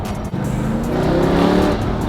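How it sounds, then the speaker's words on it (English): A Mopar supercar engine rises into a deep, continuous growl under acceleration, loud and close from inside the car, the pitch climbing steadily over two seconds with no talk over it. "Yo, it woke up. It did. Dude, I did not expect that. I'm gonna say a little Mopar growl."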